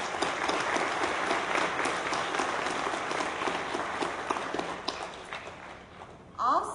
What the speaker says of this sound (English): Could we please acknowledge those individuals now with a round of applause?